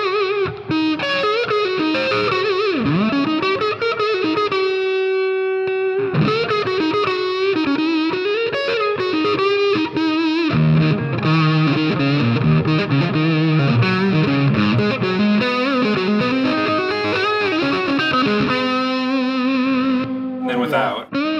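An electric guitar played through an overdrive pedal on a light drive preset, sustained bent notes and chordal phrases with mild grit and reverb, loud and continuous with short pauses between phrases.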